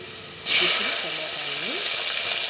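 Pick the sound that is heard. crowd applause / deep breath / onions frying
onions frying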